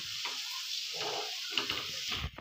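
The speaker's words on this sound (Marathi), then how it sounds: "यालाही साखरेलाही आपण गाजरमध्ये एकजीव करून घेऊया" Sugar being stirred into cooking grated carrots for gajar halwa in a pan, giving a steady close sizzle with soft scraping stir sounds throughout, no talking.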